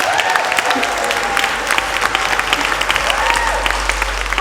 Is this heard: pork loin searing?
no